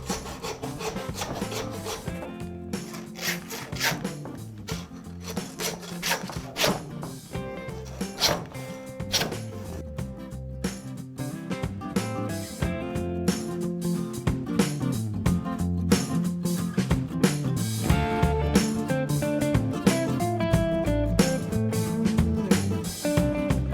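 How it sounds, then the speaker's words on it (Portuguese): A hand saw rasps back and forth through a T-bone beef cut in a home kitchen, giving steady rhythmic scraping strokes that grow louder and denser over time, close up and alone. "eu vou usar a serra"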